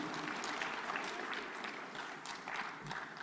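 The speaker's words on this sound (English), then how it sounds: "I would request that we give them a loud applause as they take their seats." An audience at a tuberculosis and leprosy conference gives speakers a steady round of applause, a dense and fairly distant patter of many hands that holds evenly throughout.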